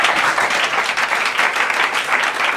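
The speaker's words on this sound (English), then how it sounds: "Give the Lord a mighty clap." Congregation clapping at a church prayer and fasting service, a dense, continuous wash of applause from many hands, loud and close, with no talk over it.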